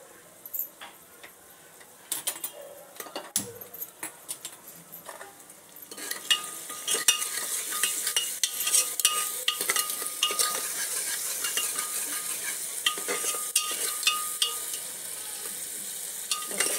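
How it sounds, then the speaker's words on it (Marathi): Crushed garlic cloves drop into a hot frying pan for a Marathi drumstick, potato and chickpea dish, giving a steady close sizzle that swells after a few seconds, with occasional clinks and stirring from a utensil and no talking. "लसूण 2-3 पाकळ्या चेचून घेतलेले आहेत, ते टाकायचे आहेत"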